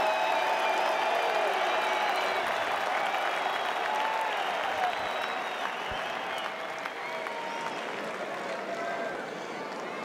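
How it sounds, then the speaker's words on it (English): Steady, dense applause from the audience at a Roland-Garros men's semi-final between Federer and Djokovic fills the stands, loud at first and then slowly easing off, with a voice talking underneath. "listen to that applause"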